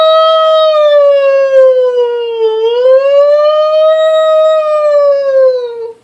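A single voice imitates a siren with a long, wavering wail that rises and falls, loud and close, then cuts off.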